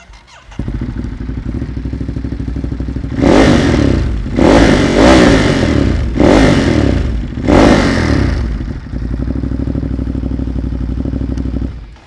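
A 2021 Ducati Monster 937 engine idles loud and close, then climbs through four sharp rev bursts before settling back to a steady idle.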